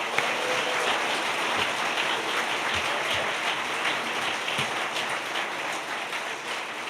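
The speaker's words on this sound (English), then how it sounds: "Let's give all the teams one final round of applause." A dense, even wash of crowd applause fills a public service award ceremony hall, steady and fairly loud throughout with no break, the many hands blending into a continuous patter.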